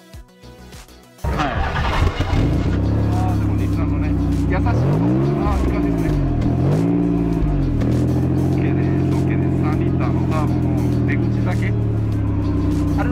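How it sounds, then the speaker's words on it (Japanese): A three-liter Nissan Cima with an aftermarket muffler runs close by, its exhaust suddenly roaring after a brief start and then holding a loud, steady drone with a couple of throttle blips midway. "十分3リッターの車外の大人のマフラーってこんな感じですよね"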